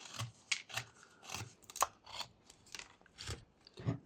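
A knife whittles a V cut into a small block of wood, making about eight crisp, close scraping strokes at an irregular pace in a quiet room.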